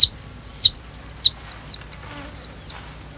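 Chickens in a Zande village give a series of short, high chirping clucks, about eight calls spaced irregularly, fairly close and clear over quiet background.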